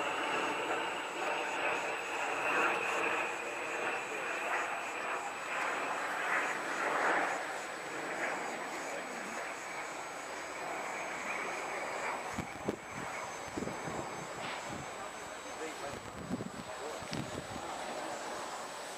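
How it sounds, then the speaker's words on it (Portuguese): An airplane with a worn, failing engine roars steadily at a distance during landing, the engine drone holding through most of the stretch before giving way to rougher wind-buffeted noise and a few thumps near the end. "Esse avião, toda vez que pousa, ele..."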